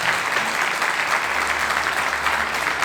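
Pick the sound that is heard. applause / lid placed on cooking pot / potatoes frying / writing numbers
applause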